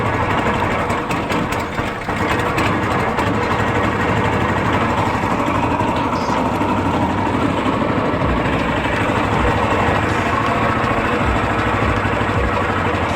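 The motor of a homemade long tail duck boat roars loud and close, a steady rough drone that holds at high throttle the whole time with slight wavering.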